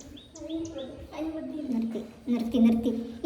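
A bird chirps and tweets in short repeated calls, mixed with a person's voice that seems to mimic the chirping nearby.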